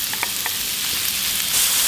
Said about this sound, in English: You can hear that sizzle, it's good to go.